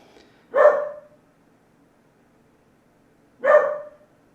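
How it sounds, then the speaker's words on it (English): Dogs indoors giving two single loud barks about three seconds apart, close by with silence between them. "dogs are being bad"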